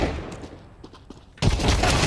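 Video game gunfire landing a headshot, a few quieter pops followed by a sudden loud, dense burst of shots that holds to the end.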